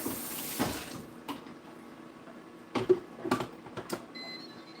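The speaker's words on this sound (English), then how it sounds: "Rinse off my lid." Tap water runs and splashes as a lid is rinsed in a kitchen sink, giving a few short, soft bursts of spray over a quiet background, with no one talking.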